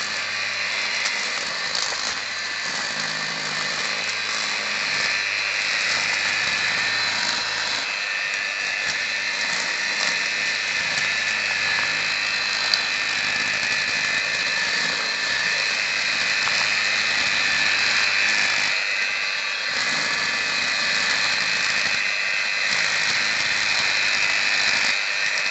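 A homemade electric grass trimmer whines steadily at high speed for the whole stretch, a loud, close, continuous motor drone with faint fluctuations as it cuts through grass, no talk.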